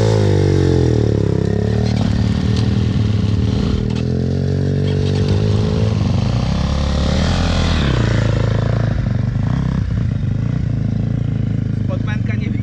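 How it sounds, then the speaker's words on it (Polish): A Yamaha enduro motorcycle engine runs close by at a steady idle, then revs up and settles, with people talking over it throughout. "A to motorek jest? To jest Yamaha."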